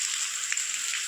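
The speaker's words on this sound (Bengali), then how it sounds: "ফাইনালি আমাদের এখানেও বৃষ্টি হচ্ছে।" Steady rain falls outdoors in a brief, even hiss with soft patters of drops hitting surfaces, moderately loud and unbroken, with no voices over it.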